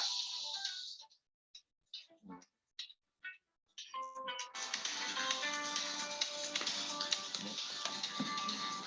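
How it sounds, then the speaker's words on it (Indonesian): A mobile phone rings during an online meeting. A few short taps break the quiet before a sustained, melodic ringtone plays on steadily, with no talk. "Suaranya terdengar nggak suara handphone saya?"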